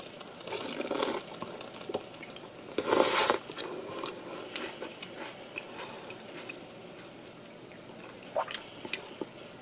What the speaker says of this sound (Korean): 국물 한번 먹어보겠습니다.